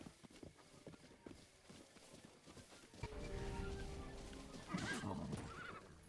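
Horses in the video game Breath of the Wild: a scatter of light hoof clip-clops and footfalls gives way to a loud, drawn-out whinny, then another neigh with snorting close by, with no one speaking.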